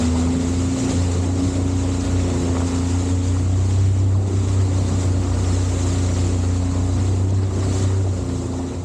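A jet ski drives steadily through shallow water off Chanthaburi, with a loud, continuous engine drone under rushing water, spray and strong wind buffeting the microphone.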